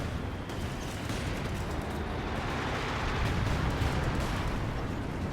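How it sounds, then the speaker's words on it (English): An artillery barrage in the Company of Heroes 2 strategy game, with British shells landing as a dense, continuous rumble of overlapping blasts and crackling explosions, loud and sustained without talk. "British artillery coming in to help him out"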